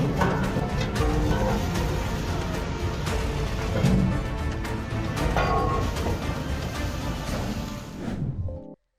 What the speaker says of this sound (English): This is the sound of an anchor breaking off.